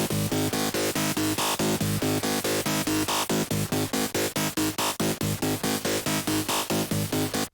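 Gritty psytrance synth chopped by a 1/8-note gate into fast, even rhythmic pulses, loud and steady, playing alone for several seconds.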